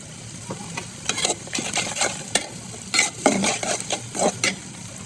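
Spice masala being sautéed in a pan with a spoon, giving irregular scraping stirs over a light sizzle, close and moderately loud with no talking.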